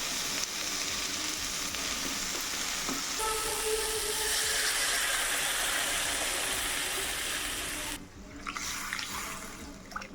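Water hits spices frying in oil (turmeric, Kashmiri chilli powder, salt) for a fish curry, setting off a loud, sustained hissing sizzle that swells and then settles, with a few utensil knocks.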